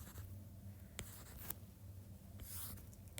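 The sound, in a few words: writing notes by hand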